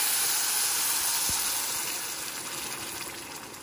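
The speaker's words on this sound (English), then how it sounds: "I'm gonna now put the broth in it. It gets a little crazy, so you'll see." Broth hits a pan of toasted brown rice with a loud, broadband sizzle and hiss of steam that starts at full force, then gradually settles into a softer, bubbling hiss.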